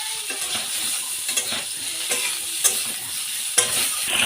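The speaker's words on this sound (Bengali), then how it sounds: "ভালো করে নেড়ে চেড়ে নিচ্ছি" Moringa drumstick pods fry in a pan while being stirred, giving a steady sizzle with repeated scraping and knocking of the spoon against the pan.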